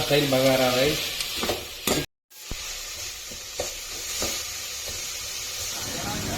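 Tomatoes fry in a pan and get stirred, giving a continuous sizzle with scattered scraping taps. A voice speaks briefly at the start, then a short silence falls before the frying carries on.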